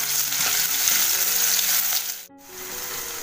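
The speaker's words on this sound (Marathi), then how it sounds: "नंतर हा कांदा टाकते आणि कांदा चांगला असा लाल करून घेते." Onion sizzling as it fries in hot oil in a kadhai with ginger and garlic, a steady loud hiss with brief stirring scrapes and a short quiet gap near the end.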